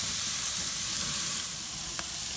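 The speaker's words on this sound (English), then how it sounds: "Let that flame hit that shrimp." Garlic-brushed shrimp skewers sizzling over an open grill flame, a broad steady hiss with a faint crackle and one sharp tick near the end.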